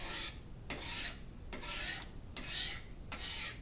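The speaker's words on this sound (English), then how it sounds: "So when I sharpen it, I'm only sharpening downwards in this direction with my stone, so that you get a real small burr that curls up." A knife blade drawn downward over a sharpening stone to raise a small burr for scraping selfbow wood, heard as five even, close rasping strokes at a steady rhythm with brief pauses between, no talking.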